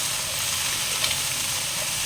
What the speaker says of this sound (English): In goes all the vegetables. And I'll just fry this for a while.